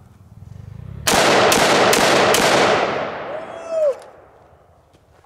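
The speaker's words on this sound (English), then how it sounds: "So we're gonna have to step it up to some rifles." A rifle is fired into heavy punching bags: one loud, sharp blast with a burst of rapid cracks, then a long fading rumble and echo, followed by brief voices and movement close by.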